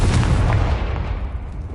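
A Confringo blasting spell from the Hogwarts Legacy video game bursts with a single deep, booming explosion that hits hard and then rumbles away over about a second.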